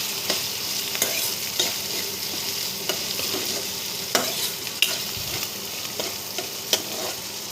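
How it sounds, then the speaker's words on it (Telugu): Ginger garlic paste fries in a pan with a constant bright sizzle, while periodic sharp clicks and scrapes of stirring come through close up. "అల్లం వెల్లుల్లి పేస్ట్ వేసుకొని బాగా ఫ్రై చేసుకోవాలండి."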